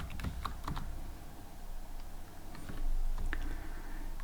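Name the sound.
typing code on a computer keyboard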